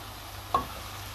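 A spoon makes a single short scrape through fish pastilla filling with cheese and chopped olives in a pan, a quick close stir against a quiet, steady background.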